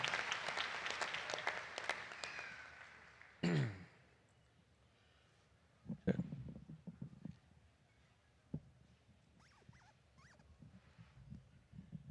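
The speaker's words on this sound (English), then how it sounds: "Let's give those young leaders a big, nice round of applause" An audience at a state fair livestock show claps, loud at first and quickly thinning out. After that come scattered faint thumps and rustles in a quiet arena.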